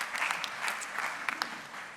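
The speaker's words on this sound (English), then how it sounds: "you're getting a round of applause" A conference audience applauds during a panel on sustainable tourism in the Mediterranean, a light, scattered patter of clapping at moderate distance with a few sharper individual claps toward the end.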